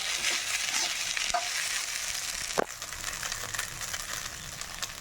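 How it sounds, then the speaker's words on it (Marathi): Rice fries in a pan with onion-garlic masala, a steady close sizzle broken by a few scraping stirs, with one sharper clack midway. "राईस बघा फ्राय होत आहे"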